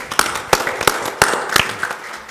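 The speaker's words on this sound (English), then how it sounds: "Give her a round of applause" Applause from a panel-discussion audience comes as a handful of sharp, separate claps spaced unevenly a third to half a second apart. The clapping is fairly close and is heard alone, without talk.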